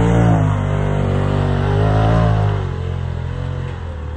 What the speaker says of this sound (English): All the tires are spinning on this.